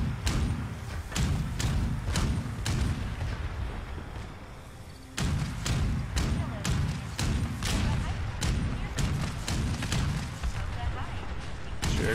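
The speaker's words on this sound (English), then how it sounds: "Feels like a good explosion here." Explosions and heavy gunfire in the video game Fallout 76, a dense run of loud booming thuds and blasts repeating over several seconds, close and intense, with a voice talking over it.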